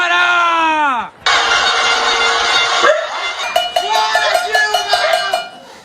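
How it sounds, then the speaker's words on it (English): A pot-banging street protest against Dilma in Brazil: rapid metallic clanging of pots repeats in bursts alongside blaring car horns and shouting voices, loud and close. "People were banging their pots,"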